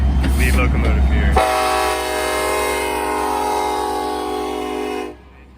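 A locomotive horn, on lead unit 1182, sounds one long sustained blast nearby. It follows a brief moment of a person talking, then holds steady for several seconds before cutting off abruptly.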